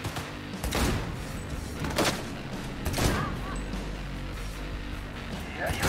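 Loud explosions from thrown grenades in Cyberpunk 2077 boom in several heavy bursts, roughly a second apart, over a dense rumbling din of game noise with a voice speaking throughout.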